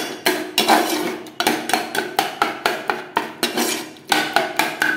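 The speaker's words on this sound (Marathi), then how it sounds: "असं बेसन टाकून चांगलं हाटून घ्यायचे" Gram flour is stirred into spinach in a cooking pan, with a spoon scraping and knocking against the metal in fast, steady strokes, loud and close, about three per second.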